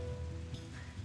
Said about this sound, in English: heavy rain is sweeping across Menagerie with howling winds